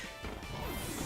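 Shell Smash move effect from a Pokemon Violet online battle: a single loud crashing smash burst that fills about a second, with no talk.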